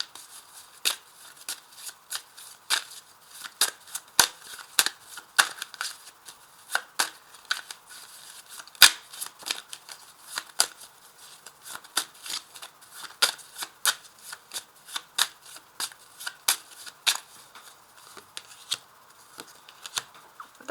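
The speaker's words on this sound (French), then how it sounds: "je vais tout de suite remuer donc le jeu de 32 cartes" A deck of 32 playing cards being shuffled by hand, steady riffling and snapping bursts repeating close and crisp for about twenty seconds with no talking.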